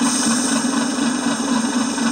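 A small brushless 5-inch narrow gauge maintenance train idles at tick over, holding a steady, close, low hum with an even drone and faint vibration and no voices.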